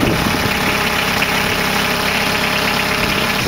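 Engine on an Osprey Mk2 diamond coring drilling trailer runs at a steady, loud idle-like drone, a constant mechanical hum with rhythmic knocking and no voices over it.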